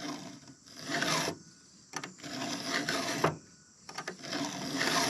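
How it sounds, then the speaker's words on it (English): Rasping file strokes sharpening the chain of a Stihl MS 661 Magnum chainsaw, a steady run of long forward passes in three or four bursts with short pauses between, close and fairly loud. "So we're sharpening the chain here."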